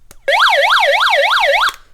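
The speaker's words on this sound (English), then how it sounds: "So this flashes with a siren" The SOS alarm of an Initpal AM/FM NOAA emergency radio sounds as a loud, close wailing siren that sweeps up and down in rapid cycles for about a second and a half, then cuts off.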